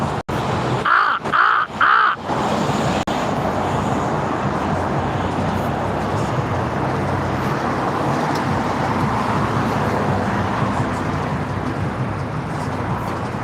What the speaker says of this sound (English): Look, there goes my crow buddies again.